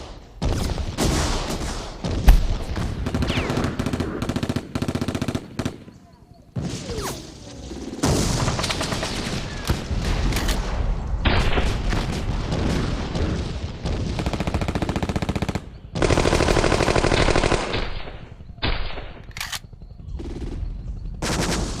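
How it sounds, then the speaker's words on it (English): Dense bursts of gunfire and rapid machine-gun fire ring out from the front left in a jungle firefight, loud and sustained with brief pauses and heavy thumps, no voices heard. "They began hearing fire to their front left."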